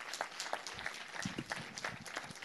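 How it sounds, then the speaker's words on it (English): Applause from an audience at a community meeting on hate crimes, a scattered, moderate clapping that keeps a steady pace through a short burst. "I want each and every one of you to give them a round of applause for doing this"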